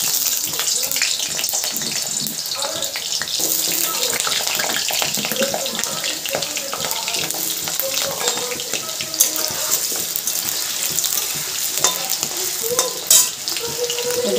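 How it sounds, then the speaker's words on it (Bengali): Potatoes sizzling in hot oil over a low gas flame in a home kitchen, a steady, dense crackling hiss that runs unbroken at close range with a few sharper pops near the end. "এখন আমি তেলের মধ্যে আলুগুলো দিয়ে দেবো"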